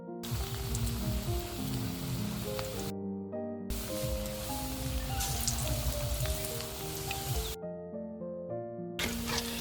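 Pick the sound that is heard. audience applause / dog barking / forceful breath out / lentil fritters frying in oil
lentil fritters frying in oil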